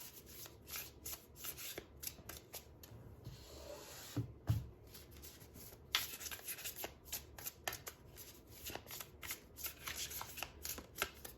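Tarot cards being shuffled by hand, a soft, steady riffling and rubbing with short slaps, close and quiet, no voices.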